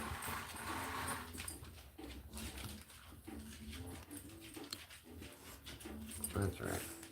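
Dogs whimper and whine in high, wavering tones, with soft panting and some shuffling around them, fairly quiet and near, with a human voice murmuring in the background.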